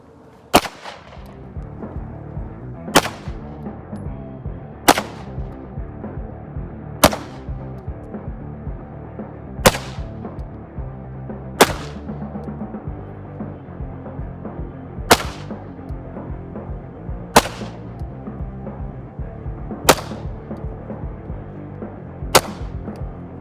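ZEV OZ9 pistol fired outdoors, ten sharp loud shots spaced a couple of seconds apart, each with a quick decaying crack over a steady low background rumble.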